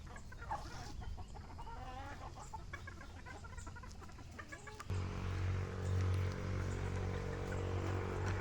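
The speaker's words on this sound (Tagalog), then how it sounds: "magpatuka ng mga manok dito sa range area" Gamecocks on a game farm range area cluck and chatter nearby while being fed, several birds at once, then a low steady hum or engine drone takes over partway through.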